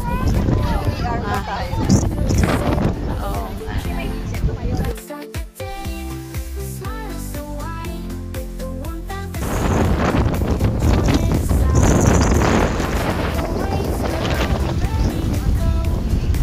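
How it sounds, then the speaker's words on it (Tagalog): Strong wind buffets the microphone aboard a boat out on the water, a loud continuous roar that drops briefly while music plays, with people talking and calling out over it. "So windy."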